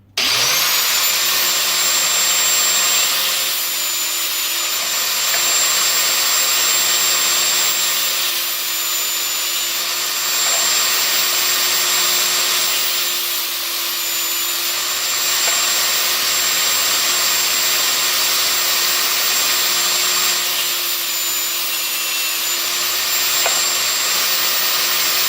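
Electric brass case trimmer cutting .223 brass down to 300 Blackout, a loud, high, steady motor whine with a harsh grinding edge, swelling slightly in repeated pulses as each case is trimmed.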